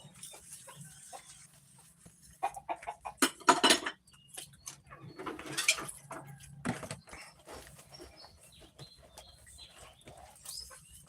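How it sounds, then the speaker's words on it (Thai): Irregular clinks and clatters of dishes and utensils being handled and washed, close by, with chickens faintly audible in the background in rural Buriram, Thailand. "นั่งล้างจานเด้อ"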